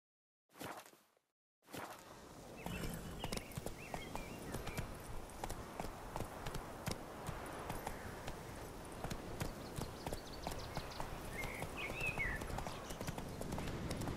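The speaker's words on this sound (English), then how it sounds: "Whoa there, Roach." Hooves of a horse in The Witcher 3: Wild Hunt clip-clopping along at a steady pace, close and continuous after a short burst at the start, with a faint whoosh.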